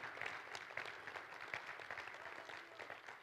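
A church congregation claps together in a continuous, fairly even wash of applause, quiet and somewhat distant, lasting a few seconds with no voices standing out.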